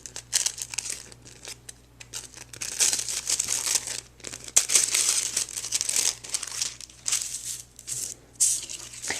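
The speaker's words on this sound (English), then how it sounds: "I'm going to remove those from the die, and I'm going to go ahead and unfold them." Die-cut tissue paper flowers being pulled from a die and unfolded, giving close, bursty crinkling and crumpling rustles that come and go over several seconds, with no talk.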